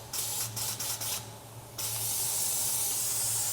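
A Fusion FX spray gun is triggered with the air on and hisses. Several short bursts of sharp, close hissing are cut by brief pauses, then a longer, steady, loud hiss follows. A low mechanical hum runs underneath.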